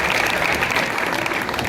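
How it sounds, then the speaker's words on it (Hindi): Sustained audience applause at a Hindi kavi sammelan, a poetry recital in Pani village, steady dense clapping from a crowd throughout without pause. "देखो क्या ताली बजाई उन्होंने"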